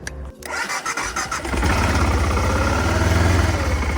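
A motorcycle engine cranks with a few stuttering bursts, then catches and settles into a loud, close, steady idle with a fast throbbing pulse, no voices over it.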